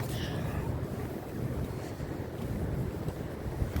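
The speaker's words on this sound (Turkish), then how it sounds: "Rüzgar sesi geliyor" Steady wind roaring and buffeting the microphone at Sapanca, Sakarya, a continuous low rumble with no pauses throughout.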